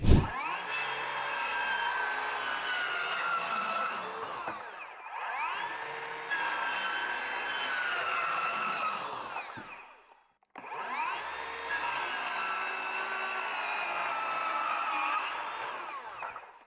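A cordless circular saw whines loudly through three long cuts in 15 mm OSB board, each lasting several seconds, separated by brief pauses where the motor drops off.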